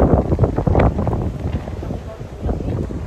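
Strong wind buffets the microphone outdoors, a steady low roar with gusty swells, loud and close throughout the stretch.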